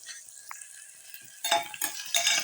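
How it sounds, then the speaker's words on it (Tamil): Onion and a slit green chilli hit hot oil in a pan for veg biryani: a faint hiss at first, then bursts of bright crackling sizzle with stirring scrapes, close and unaccompanied by speech. "ஒரே ஒரு வெங்காயம் வெங்காயம் ஆட் பண்ணிவிட்டு ஒரே ஒரு பச்சை மிளகாய் கீறிட்டு அதில் ஆட் பண்ணிக்கலாம்"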